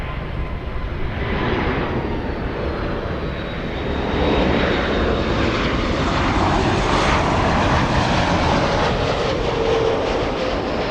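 An airliner in Louisiana One livery at Los Angeles International Airport roars steadily and loudly throughout, its jet engine noise swelling slightly midway with no voices.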